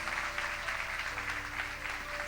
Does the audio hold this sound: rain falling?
no